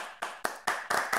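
Audience clapping at a Malaysian debating session, heard as a handful of sharp, separate hand claps spaced a fraction of a second apart, rising slightly in loudness, with no voices.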